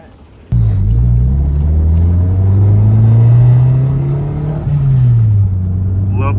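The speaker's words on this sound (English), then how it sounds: "Love the blow-up valve sound." A Toyota MR2 SW20 turbo pulls hard from inside the cabin, its engine note rising steadily before a sharp dip as the blow-off valve vents with a brief hiss, then building again, loud and close.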